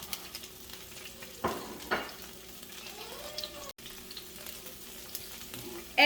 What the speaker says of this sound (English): You definitely want to hear that sizzle.